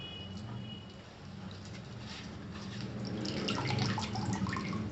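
Mustard greens are rinsed in a water-filled utensil, giving a steady wet sloshing and dripping that swells slightly toward the end, close and continuous with no talk.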